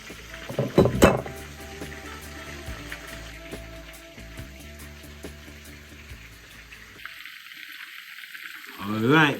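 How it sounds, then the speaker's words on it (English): Chicken frying slowly in oil gives a faint, steady sizzle underneath kitchen clatter, with a few sharp knocks and a burst of running water near the end. "the chicken is frying up nice and slowly"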